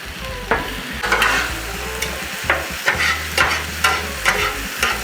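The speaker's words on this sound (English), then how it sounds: "So when we put fajitas on there, they will sizzle." Chicken fajitas sizzle loudly on a hot Blackstone griddle, a steady frying hiss broken by repeated scraping stirs and spatula clacks.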